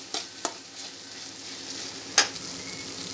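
Ginger garlic paste frying with garlic in a pan: a steady low sizzle broken by three sharp spatula scrapes, two early and one louder near the end, close and alone.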